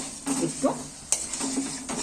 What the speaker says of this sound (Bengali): একটু ভেজে শুকনো শুকনো করে নেব